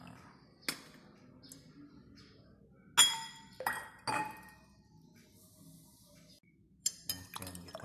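A spoon clinks against a glass while a spoonful of honey is added, giving several sharp, separate taps and chinks spread over a quiet background.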